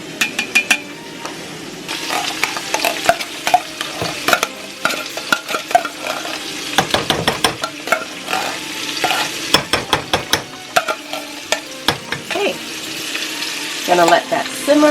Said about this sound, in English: Gonna let that simmer until it warms up.